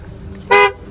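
A car horn on a used Chevrolet Gentra with 8,200 km, tested at the Bukhara car market, gives one short, loud, close honk lasting about a fifth of a second, with quiet background before and after.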